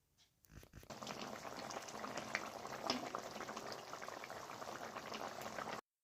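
A fish and tomato curry bubbles in a pot with coriander leaves added, a steady close simmering burble running continuously until it cuts off abruptly, with no talking.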